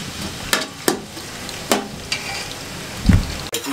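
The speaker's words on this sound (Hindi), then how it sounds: "इस प्याज को गोल्डन ब्राउन होने के लिए छोड़ दें इस तरीके से।" Onions fry in hot oil in a village-style pan while being browned for a chicken karahi from Gilgit. A soft, steady sizzle runs underneath, and a few sharp stirring clacks of a utensil against the pan stand out close by.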